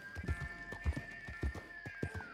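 Steady clip-clop of a video game horse's hooves at a trot, evenly spaced and fairly close, with a faint tonal hum running underneath.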